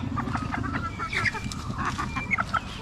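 Chickens clucking steadily nearby, several birds overlapping in a busy farmyard chorus with constant background noise.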